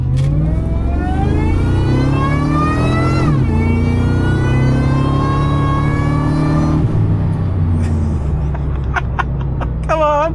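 A 25-year-old supercharged truck accelerates hard on the highway, its engine revving loud and rising in pitch through two long pulls with a shift between, then easing off at the end.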